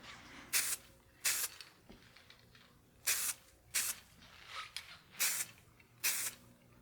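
A GluBoost lacquer aerosol can hisses out in six short bursts onto figured wood, each about a quarter second, evenly spaced with brief quiet gaps between, close and clear.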